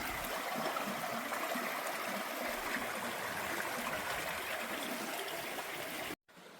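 A flowing mountain stream on the Appalachian Trail in North Carolina, where feet are soaked, gives a steady close rush and trickle of water with no talk, ending in a brief cut.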